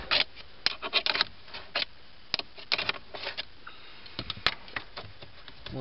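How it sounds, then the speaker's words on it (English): A wrench works loose a nut on the hood release cable of a Ford Focus during a clutch master cylinder replacement, giving scattered close scraping rubs and sharp clicks in uneven bursts, with no talking. "we also need to loosen up this nut here for the hood release cable"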